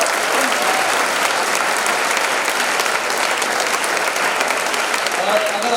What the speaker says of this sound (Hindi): ताली बजाते रहिएगा, मुस्कुराते रहिएगा.